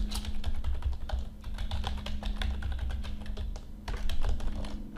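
Keys clatter on a computer keyboard in quick irregular bursts as a blog address is entered, close and crisp over a faint steady hum, with short pauses between runs of keystrokes.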